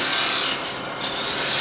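A 3/8 spindle gouge cutting wood on a lathe, a loud, continuous rushing hiss with a brief dip partway through as the cut eases, alone without talk.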